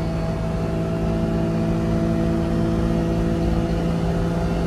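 A Daihatsu Midget one-seat kei car held at top speed, its small engine producing a steady, loud, droning whir with constant pitch and no letup for the whole stretch, heard from inside the cab.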